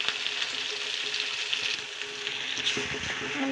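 A beaten egg fries in a hot pan with a loud, steady crackling sizzle that carries on close and continuously, with occasional stirring scrapes and no talking.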